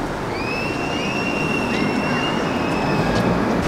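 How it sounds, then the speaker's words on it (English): A train running along Southend pier, its wheels giving a sustained high metallic squeal over a steady rumbling roll, moderately loud and close throughout. "They got a train on the pier, haven't they?"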